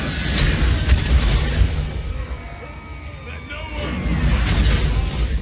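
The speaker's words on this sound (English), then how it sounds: "I decided to fire at them with my mortars." Heavy low booms and rumbling blasts roll continuously, like distant mortar impacts in a battle, with a few sharper cracks on top; mortar fire in the video game Total War: Warhammer.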